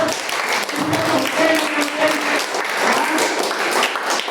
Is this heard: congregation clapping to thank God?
yes